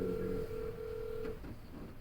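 A telephone call ringing out unanswered, a steady electronic ring tone held for about a second and a quarter before cutting off, heard faintly over a low background hum.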